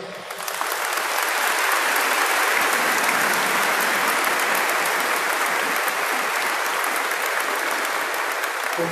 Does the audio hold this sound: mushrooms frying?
no